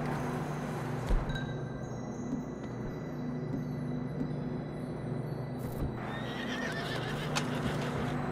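Horses in the Red Dead Redemption 2 video game whinny and snort over a steady low rumble, with occasional clip-clop of hooves close by throughout.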